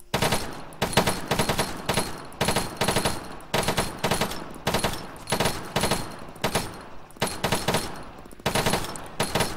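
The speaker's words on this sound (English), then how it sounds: "You can put a lot of rounds on target really fast before the recoil kicks in." An automatic rifle fires at targets in Arma 3: about nine sharp, loud bursts of rapid shots, each a quick rattling string separated by short pauses, with nothing else in between.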